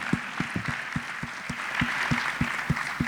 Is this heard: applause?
yes